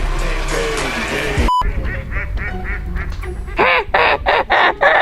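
Ducks quack loudly and repeatedly at close range in a noisy outdoor scene, with rustling, background bustle and occasional voices mixed in.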